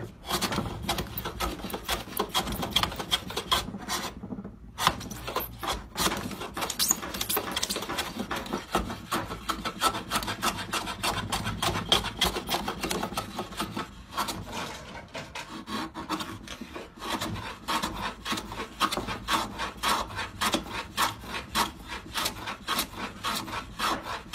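A freshly sharpened hand plane (garlopa) cutting wood with rapid, continuous rasping strokes that repeat in a steady rhythm, loud and close, with only brief pauses between passes.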